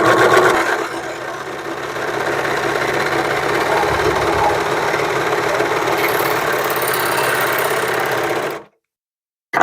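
A sewing machine stitching fabric for a hat runs steadily and loudly up close, a continuous motor whir with rapid needle chatter for about eight seconds, then stops abruptly.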